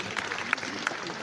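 A seminar crowd at a business conference claps briefly, a soft, diffuse patter of many hands with a few sharper individual claps standing out near the end.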